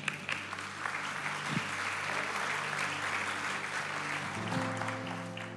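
A church congregation claps in a thin, subdued round of applause that runs steadily throughout, with faint murmuring beneath.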